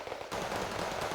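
Grenade-like HE rounds from a 60mm gun in the war game Wargame, a sharp burst that jumps to a loud, sustained blast of gunfire for about a second, filling the clip with no talk.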